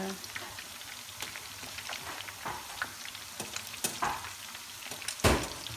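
Chicken frying in oil for a budget chili sauce, a steady crackling sizzle broken by irregular sharp pops and stirring scrapes, close and fairly loud throughout.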